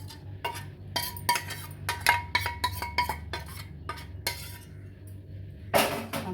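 A metal spoon scrapes and clinks against a ghee-greased steel plate as khoa sweet is spread onto it, a rapid run of bright, close clinks and taps followed by pauses and one final louder clatter.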